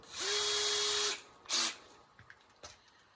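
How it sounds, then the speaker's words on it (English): A drill with a 1/8 inch bit whirs briefly up close while drilling holes for a wood stove kit, then stops, followed by a short second burst and a few faint clicks and taps. "we can now screw drill our other holes with our 1/8 inch drill bit"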